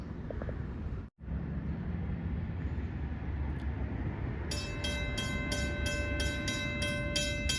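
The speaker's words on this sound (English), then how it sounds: "Alright, I'll wait till the train comes." A SEPTA train passes near Tomlinson Road in Huntingdon Valley, Pennsylvania, with a steady low rumble of rolling wheels, followed by a rapid, evenly pulsing metallic ringing that carries on to the end.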